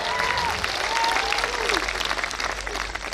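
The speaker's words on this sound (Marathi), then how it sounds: "हात वर करून जोरात टाळ्या वाजवल्या, जोरात जोरात टाळ्या वाजवल्या" Loud, sustained applause from a large audience at a medical college graduation convocation, with dense, steady clapping and a few whoops and whistles rising above it.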